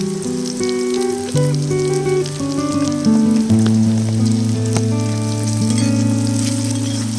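Onions sizzling in hot oil with turmeric and cumin powder, stirred steadily in a pan; a continuous close crackle runs alone throughout, with soft music tones layered over it.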